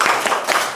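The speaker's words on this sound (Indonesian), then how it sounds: "Tepuk konsentrasi." A group of teachers at a coaching workshop does a quick rhythmic concentration clap, with a few sharp, close claps in a tight pattern over less than a second.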